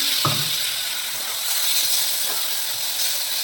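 Water poured into a hot pan of chicken and potato curry gives a brief splash and crackle near the start, then a strong, steady hiss of sizzling.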